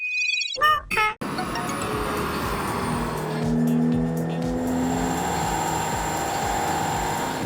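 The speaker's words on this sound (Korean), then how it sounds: "다시 다이너모가 있는 곳에 가서 자동차의 출력을 다시 한번 테스트해 보도록 하겠습니다" A Genesis car engine revs on a dynamometer during a power test, a loud, sustained roar that holds steady after a few brief knocks at the start.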